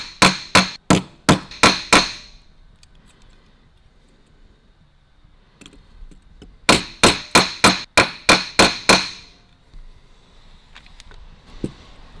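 Two bursts of rapid, sharp hammer strikes on metal ring out, about six blows each, loud and close, with a quiet pause between them, while refurbishing a 1943 Harley-Davidson WLA speedometer face.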